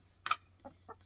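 Backyard chickens give three quick, faint clucks, one slightly sharper burst followed by two softer ones, in a quiet setting.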